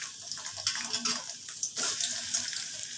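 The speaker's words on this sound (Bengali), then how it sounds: "এবার পেঁয়াজগুলোকে আগে ভেজে নিচ্ছি" Chopped onions fry in hot oil in a wok, a steady crackling sizzle with bursts of stirring and a louder surge of spitting oil partway through.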